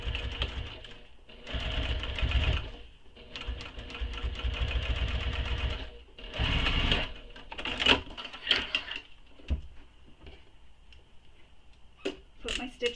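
A sewing machine stitches fabric for a crossbody bag in steady whirring bursts of several seconds, stopping and starting, then giving way to short clicks and handling noises near the end.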